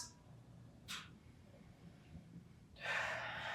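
Deep breaths taken during a gentle back stretch, heard as a couple of soft, close airy inhales and exhales over a quiet low room hum, the last breath longer and fuller.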